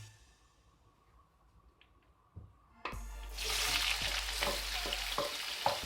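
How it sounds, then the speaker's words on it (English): White onions hit a hot pan with vegetable sauce base, bursting into a loud, steady sizzle after a quiet stretch, with a few stirring clatters and scrapes on top. "After that, I'll add the onions. This is white onions."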